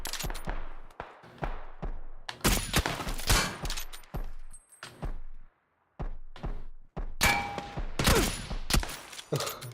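Rapid bursts of video-game gunfire fill the scene, dense fusillades and machine-gun rattles in loud clusters broken by short pauses, including one near-silent gap midway.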